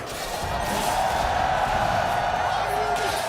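A large esports crowd at an EVO fighting game grand final roars and cheers continuously, a dense, steady wash of noise throughout.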